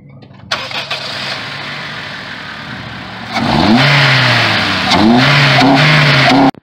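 A Ford Focus engine fitted with a custom-fabricated intake and mass airflow sensor starts up and idles, then revs sharply several times, loud and close, with a rising whooshing intake note.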